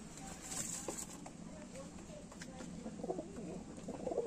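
A Lalduma (Madrasi) pigeon gives soft, low cooing calls close by. The calls repeat against a busy background with other faint bird sounds and some rustling.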